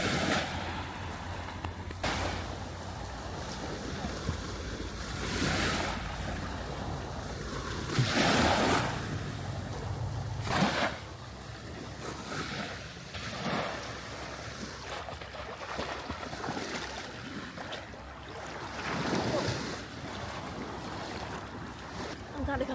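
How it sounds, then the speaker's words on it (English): Sea waves wash in repeated surges off a beach in Mallorca, with wind buffeting the microphone and a steady roar between the breaking swells, moderately near. "It's beautiful in the sea here."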